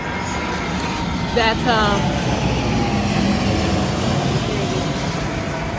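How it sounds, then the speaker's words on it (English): Airplanes fly overhead near an airport, a low, steady rumble of jet engines under people talking nearby. "You have planes flying across here"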